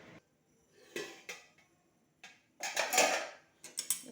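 A lid set onto a cooking pot of chicken kosha gives a few short metallic clanks and knocks, close by, with quiet pauses between and a louder clatter near the end.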